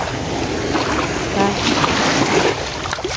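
Sea waves wash continuously at Bangay Bangay Beach in Salay, Misamis Oriental, a close, steady rush of water with wind buffeting the microphone throughout.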